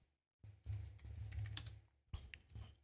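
A computer keyboard is typed on in quick bursts of close, crisp key clicks while an online real estate exam application is filled in, with a short pause between the two runs.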